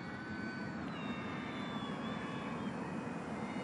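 A Kavan Norden light aircraft turns back with full flaps, giving a steady engine drone with a gently falling whine, continuous and moderately loud throughout.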